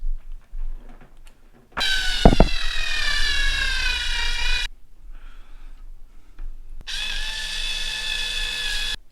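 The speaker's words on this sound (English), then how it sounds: "I'm gonna go ahead and drill them out so that way we can put these set screws back in" A power drill whines in two long, high-pitched bursts while drilling out holes for set screws, with a short pause between, close and loud, with no voices.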